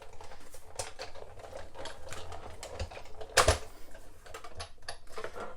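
A platform and embossing folder crank through a card-making machine, giving a steady grinding, clicking mechanical run close by with one louder crunch partway through.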